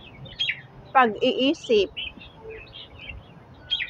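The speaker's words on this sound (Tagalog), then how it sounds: "sa mga huni ng ibon" Small birds chirp and tweet in Nan Lian Garden, Hong Kong: a few quick, bright calls near the start, a burst of chatter at the middle, then scattered faint tweets. Someone speaks briefly over them.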